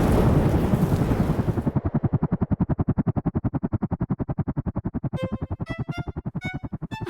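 Police helicopter in a children's app game: a broad noisy burst gives way to a fast, steady rotor chop that continues throughout, with bright electronic chime-like tones entering near the end.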